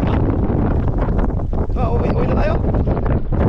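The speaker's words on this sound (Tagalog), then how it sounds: "Grabe, lakas na hangin." Strong wind gusts roar across a fishing boat at sea off the Philippines during monsoon weather, a steady loud buffeting rush with water noise beneath, while people talk over it.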